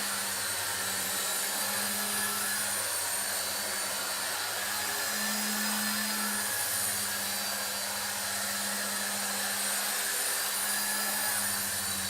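A Heli-Max Novus CX 4-channel RC helicopter hovering indoors, its small motor and rotor giving a steady, high-pitched whine with a buzzing hum beneath it, continuous and close throughout.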